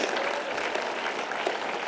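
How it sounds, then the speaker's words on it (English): An audience at a film and animation festival award ceremony applauds and cheers, dense steady clapping filling the whole moment. "And can we do one more cheer for them?"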